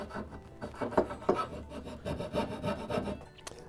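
A hand saw rasps back and forth through wood while cutting splayed dovetail pins for a stool, each stroke steady and close, with no talking.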